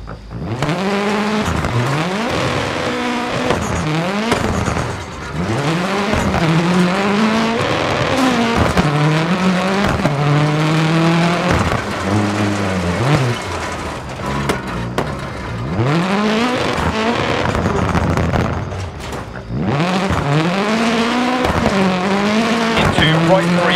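A Mitsubishi Lancer Evolution X rally car screams through a DiRT Rally stage in Argolis, Greece, its engine revving up and down through repeated gear shifts with tire squeal, loud and continuous.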